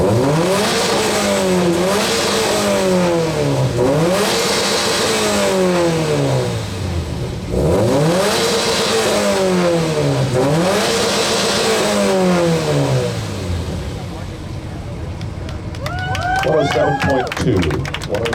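A 2014 Subaru WRX hatchback at an exhaust competition during a car show, revving hard in repeated rising-and-falling sweeps, loud and close, before dropping back as voices talk and shout in the background near the end.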